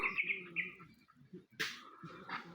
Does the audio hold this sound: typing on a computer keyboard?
no